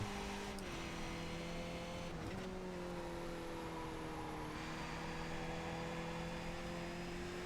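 A race car engine held on throttle in the sim racing game iRacing, a continuous droning note that shifts pitch slightly with gear and speed changes, loud and steady with no voices.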